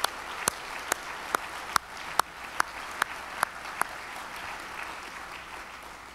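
An audience at a university faculty convocation applauds in a soft, steady wash of clapping. A few sharper, evenly spaced claps sound nearby, and the applause thins out after about four seconds.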